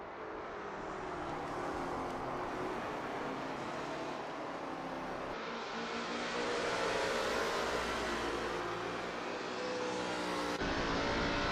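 Lola T70 MkII Spyder race car engine from a 1960s racing video game at Kyalami, a steady loud roar with rising and falling revs and shifting gears that continues throughout the clip, with no talking.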